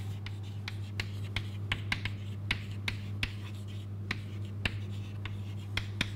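Marker or chalk strokes drawing curves on a board, a steady series of short sharp taps and scratches recurring about twice a second over a constant low hum, moderately close.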